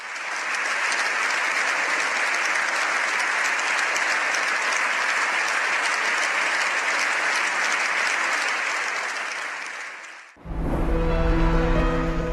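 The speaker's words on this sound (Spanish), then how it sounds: "con una larga ovación, más de 7 minutos, y con los diputados y senadores en pie aplaudiendo al Papa" Parliament deputies and senators give the Pope a long standing ovation, dense sustained applause that fills the hall for about ten seconds before cutting abruptly to another loud, different passage.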